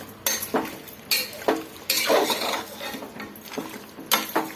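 Mutton frying in oil in a pan, with repeated scrapes and clinks of a utensil stirring against the metal over a soft background sizzle, close and moderately loud.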